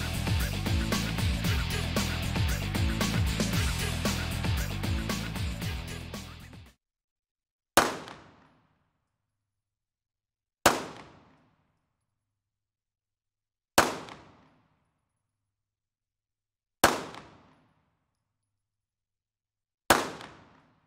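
Five pistol shots fired one at a time on a range while sighting in a red dot, each a loud sharp crack that decays quickly, about three seconds apart, following a stretch of dense continuous loud sound.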